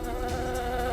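Honey bees from a beekeeper's hives buzz in a dense, continuous drone, close and steady throughout, with no voices.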